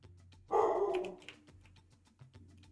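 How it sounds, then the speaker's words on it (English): A dog barks in a short burst of a few yaps, fairly faint, against a quiet indoor background with low hum. "And the dog is barking."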